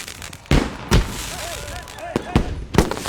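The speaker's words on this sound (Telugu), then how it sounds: "ఏంటయ్యా ఈ టపాసులు ఎక్కడికున్నారేంటి?" Firecrackers go off in an outdoor celebration of a local election win, giving several sharp, loud bangs spread over a few seconds, with faint whistling crackles and voices murmuring in the background.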